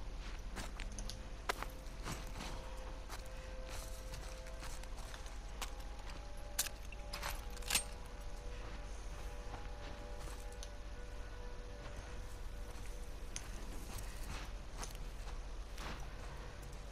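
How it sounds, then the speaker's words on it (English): Footsteps in the video game The Last of Us Part II: soft, irregular steps and scuffs over a steady background hiss, continuing for several seconds with no talking. "your footsteps are really loud"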